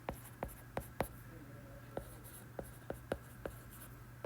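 A pen or marker writes by hand, making a series of short, sharp strokes at an irregular pace over a low steady hum, with no voice.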